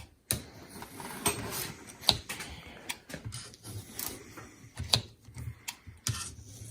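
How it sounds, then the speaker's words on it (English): A rubber mountain bike friction grip is cut off the handlebar: irregular close clicks, knocks and scraping ticks in an uneven rhythm, with no talking. "we're going to cut off the right grip right now"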